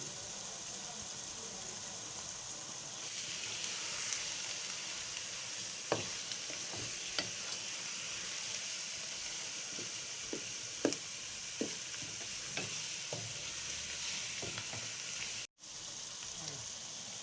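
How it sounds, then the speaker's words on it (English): Continuous hiss of Edikaikong soup with ugu and waterleaf frying in a pot, with occasional sharp scrapes and clinks of a utensil stirring, close up and fairly loud. "Then it's time to stir it all."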